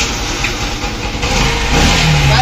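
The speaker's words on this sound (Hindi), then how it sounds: "गाड़ी अभी बिल्कुल स्टार्ट है" A Bajaj CT motorcycle engine runs steadily at idle, with a continuous low mechanical drone that grows slightly louder toward the end, heard close by with no talking.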